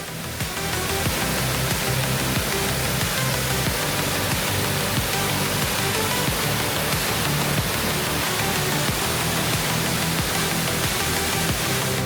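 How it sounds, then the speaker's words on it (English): Waterfall at a butterfly park in Laos, set beside a river below the falls; steady broadband rushing of falling water, dense and constant throughout with no voices. "and which also had its own impressive waterfall."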